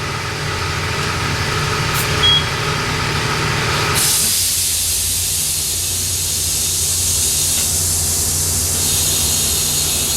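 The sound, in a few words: inflating a tire with air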